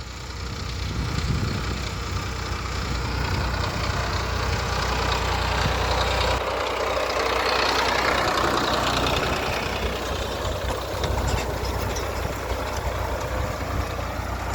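Tractor engine running steadily in a field while sowing groundnut, a loud continuous low diesel drone with knocking texture that holds throughout with no talk.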